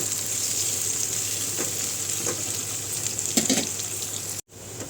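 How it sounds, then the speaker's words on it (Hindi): Dried red chillies and onions fry in oil with a constant bright hiss and occasional soft stirring knocks, a steady hum beneath, ending in a brief cut-out near the close. "साथ ही साथ मैं सूखा लाल मिर्ची भी डाल दे रही हूँ"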